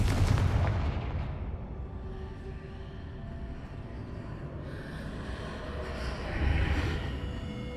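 The Confringo fire spell in Hogwarts Legacy lands as a loud booming blast that decays into a rumbling roar, followed later by a second, softer whooshing burst.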